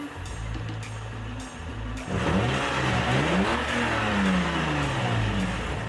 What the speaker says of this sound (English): So I'm going to give the car a few good revs and have it record them all.